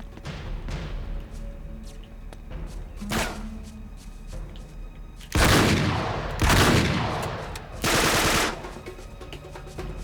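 Three loud bursts of automatic gunfire from Uncharted 3 while running without cover, spaced a second or two apart over quieter game ambience.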